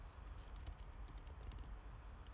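Keyboard typing during a software setup, with steady soft clicks of keys close up and a continuous low hum underneath, no talk.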